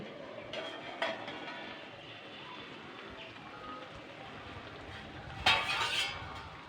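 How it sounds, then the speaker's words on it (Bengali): A metal lid lifted off a hot pot of oil-free gourd dal, with a faint clink early on and a sharper clatter and brief rattle near the end, over quiet kitchen background. "আমি কিন্তু এবার ঢাকনাটা খুলবো"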